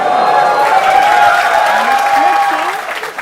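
A TV talk show studio audience applauds and cheers to welcome actress Amar Khan, a loud, steady wash of clapping with faint tonal music beneath that eases off near the end.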